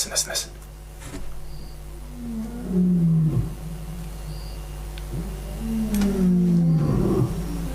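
Deep, drawn-out roars from large animals rise and fall twice, fairly close, with a person speaking softly in between and faint insect sounds behind.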